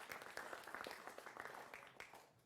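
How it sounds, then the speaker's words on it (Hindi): Applause from the studio audience of a Hindi television election debate show, a brief loud burst of clapping that tapers off toward the end. "जोरदार तालियों से इनका भी अभिनंदन करिए।"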